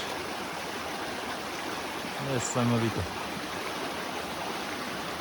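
A small mountain tributary stream flows with a steady, even rush of water throughout, while a single voice speaks briefly in the middle.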